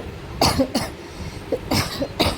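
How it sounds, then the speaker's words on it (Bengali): Several sharp, hoarse coughs in separate bursts, close and fairly loud, with short pauses between them and no talking. "খুব কাশি হয়েছে বন্ধুরা"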